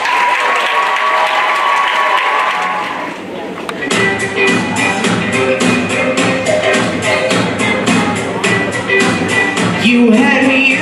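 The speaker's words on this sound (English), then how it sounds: "let's give a big round of applause for our Varsity Chorus" Audience applause at a high school choral concert, loud sustained clapping from a large crowd filling the hall after a sung passage ends, continuing strongly to the end.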